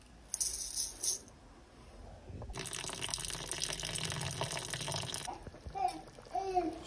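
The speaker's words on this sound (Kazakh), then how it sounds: "Күрішті тазалап суға жуып аламыз." Rice being rinsed in water while making Kazakh palau (plov): a few seconds of steady splashing, running-water noise, with quieter clinks and handling sounds before and after.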